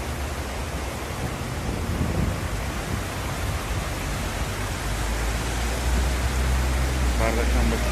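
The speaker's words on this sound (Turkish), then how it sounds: "Arnavutköy'de şu an yağmur başladı." Heavy rain pours down in Arnavutköy, a dense, steady rushing hiss that fills the whole span without pause, with low rumbles beneath it.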